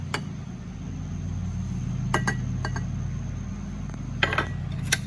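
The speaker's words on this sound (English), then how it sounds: "I like to give this just a couple stirs before I add the milk" Flour and sugar stirred in a bowl for a peach cobbler, a few bright clinks of a utensil against the bowl over a steady low hum, with quiet gaps between the strokes.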